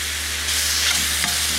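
Prawns fry in the upturned lid of a cast camp oven used as a frying pan, giving a steady, close broadband sizzle with soft stirring that rises slightly partway through.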